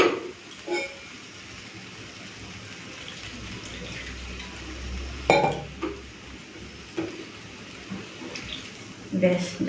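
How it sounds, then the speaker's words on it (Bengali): Water is added to a cooking pot of boiled potatoes for aloo posto, giving soft splashing and pouring with metallic clinks of utensils against the pot, heard with faint background noise. "জল দিয়ে দিয়েছি।"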